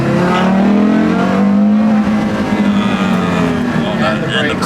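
Mitsubishi Mirage GT race car engine heard from inside the cabin, a loud steady droning hum that rises and settles while driving, with people talking over it.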